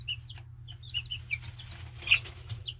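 Chickens, among them a New Hampshire Red, cluck softly and repeatedly at close range, giving a scattered run of short calls over a low steady hum.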